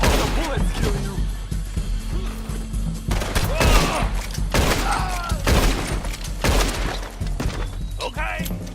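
Gunfire in the Western video game Red Dead Redemption 2, rapid bursts of loud shots with sharp cracks and shattering impacts, mixed with shouting voices over the chaotic fight.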